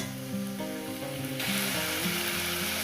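Egg and snake gourd frying in a pan, a continuous crackling sizzle that grows brighter and louder partway through, while a steady mechanical whir runs underneath.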